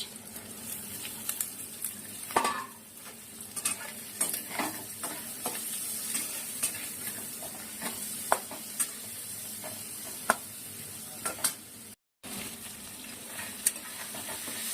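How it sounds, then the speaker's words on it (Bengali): Onion, chili and amudi fish fry in a pan with a continuous sizzle and hiss, broken by scattered scrapes and clinks of stirring throughout. "পেঁয়াজ লঙ্কা আমুদি মাছ একটু ভেজে নিলাম"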